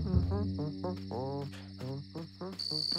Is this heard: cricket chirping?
yes